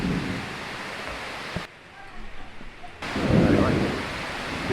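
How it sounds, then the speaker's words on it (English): Heavy rain pours steadily in Kuta, Bali, a broad loud hiss with low rumbling, briefly dropping quieter midway before surging back even heavier. "the rain's coming down fairly well now"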